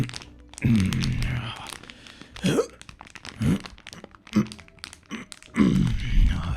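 A voice imitates crinkly food-packaging rustles with scratchy, crackling mouth noises in several short bursts, mixed with breathy vocal sounds, close and fairly loud.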